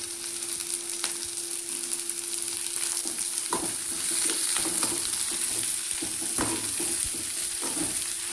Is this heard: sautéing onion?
yes